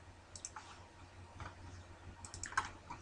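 Computer keyboard keys are pressed while working in Excel 2010 on a PC, producing a few faint, scattered clicks and taps over a quiet low hum.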